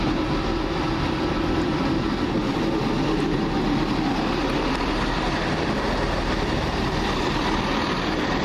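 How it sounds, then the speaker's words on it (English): A London Midland diesel multiple unit, class 158, pulls into Wolverhampton station with a steady, loud rumble of engine and wheels that holds throughout without a break, and no voices are heard. "Just now coming in, the 1320 London Midland service"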